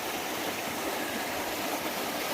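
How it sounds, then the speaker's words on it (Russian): Small waterfalls tumbling along a narrow stream gorge in northern Israel, a steady broadband rush of water with no voices. "Соответственно, водопадики появились."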